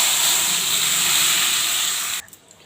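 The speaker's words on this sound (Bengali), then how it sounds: "ডালটা ফোড়ন দিয়ে দিচ্ছি" Lentil dal poured into hot oil tempered with black cumin and radhuni spices, giving a loud, steady broadband sizzle that holds for about two seconds, then cuts off abruptly to faint crackles.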